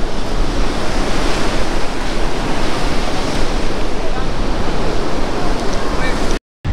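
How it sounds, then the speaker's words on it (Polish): Surf breaking on a crowded public beach in Chałupy, heard as a loud, continuous roar of waves with steady wind noise on the microphone, briefly cut off near the end. "A tak wygląda normalna plaża w chałupach."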